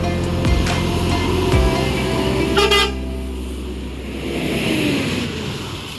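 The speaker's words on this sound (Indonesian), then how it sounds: "berangkat lagi unit Transport Express menuju Jakarta" Transport Express bus departing a terminal for Jakarta, with a loud sustained horn blast over an idling engine, then a brighter short honk before the motor settles into a lower hum.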